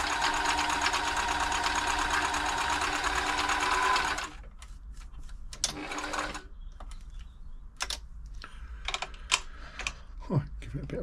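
A Riccar 8400 sewing machine stitching a blind hem, a rapid, even mechanical chatter for about four seconds that stops, followed by faint scattered clicks and handling noises.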